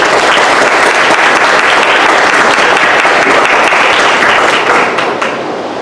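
A loud, dense burst of audience applause greets book author Manuel de J. Jiménez at a book presentation, continuous and close, tapering slightly in the final second.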